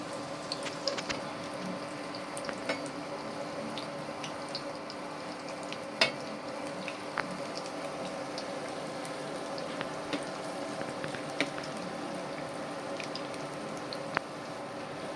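Jackfruit fritters frying in oil crackle and bubble continuously, with scattered sharp ticks and scrapes from a utensil stirring them in the pan, steady and moderately loud with no talking.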